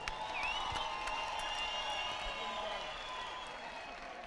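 Crowd applause and cheering at a celebrity boxing match between Big Zulu and Njilo, a broad sustained wash of clapping with loud tonal sounds running over it throughout.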